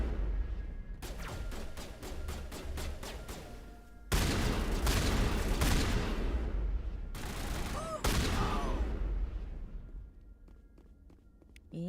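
Rapid bursts of gunfire in the Mass Effect 1 video game, with a fast string of sharp cracks followed by heavier sustained volleys, loud and close, with brief pauses between bursts and a faint voice under the shooting.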